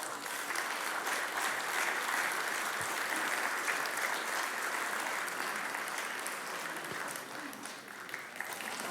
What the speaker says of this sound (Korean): 한번 뜨거운 박수로 격려해 주세요.